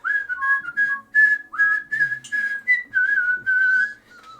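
A person whistles a melody in short clear phrases, bright and close, with brief gaps between notes and no talk.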